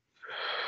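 A single steady breath out during guided Wim Hof breathwork, rising from silence into a close, airy, sustained exhale that stays loud to the end.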